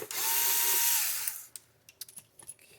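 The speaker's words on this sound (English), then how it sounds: "you have to take out all these black screws on the back, and that's a Torx 10" A power screwdriver whirs loudly, unscrewing Torx screws from the back of an Atlas Copco ACTA 3000 torque tester, then stops, followed by a few soft clicks and taps as the screws and housing are handled.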